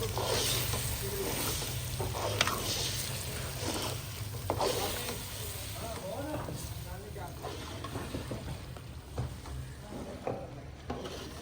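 Semolina halwa cooks in a pan while being stirred, giving a low, continuous sizzle with scraping strokes at irregular intervals and a faint steady hum underneath.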